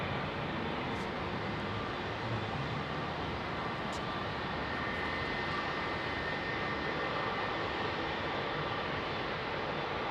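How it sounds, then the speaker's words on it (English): An ATR turboprop airliner departing Heathrow at night gives a continuous, even engine drone with a broad rushing hiss that holds steady throughout, with no talking. "Got a prop coming out, I think."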